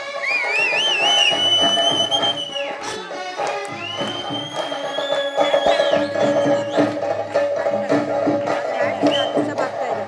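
Parents and audience at a EuroKids Nandini Layout school annual day celebration, sharp rising whistles over continuous crowd noise and clapping, with a loud voice talking over the hubbub throughout.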